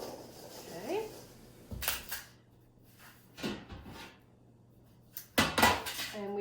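Vegetables clatter against a bowl as they are tossed with olive oil, salt and pepper, giving a few short bursts of clanking and scraping between quieter gaps.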